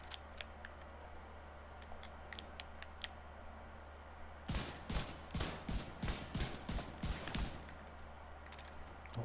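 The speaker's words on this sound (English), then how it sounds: "Sometimes the rate of fire can be kind of wonky on this M1A." M1A rifle fire in a video game: a loud burst of about a dozen sharp, closely spaced shots in an irregular rhythm, following several seconds of quiet low hum and faint clicks.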